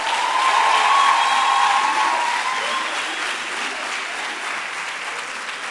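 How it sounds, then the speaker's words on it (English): A lecture hall audience claps for a choir at a memorial public lecture. The dense, even applause starts strong and gradually eases in loudness. "Another round of applause for our choir."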